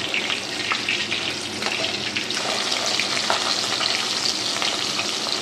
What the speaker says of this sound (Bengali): এবার বাকি মাছগুলো আমি এইভাবে ভেজে নিচ্ছি